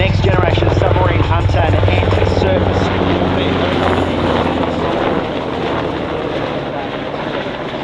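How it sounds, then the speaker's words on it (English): A Royal Australian Navy MH-60 Seahawk helicopter passes at an air show, a loud rhythmic rotor thump and turbine roar that fades slightly as it moves on, with a commentator speaking over it. "With the Poseidons and, of course, the Seahawk coming through."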